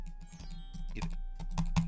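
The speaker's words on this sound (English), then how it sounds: "you kind of have to expect a lot of just random clicking here and there" Rapid computer mouse clicks during a King's Quest VI point-and-click speedrun, a quick close run of light taps with uneven spacing, fairly quiet and heard on their own.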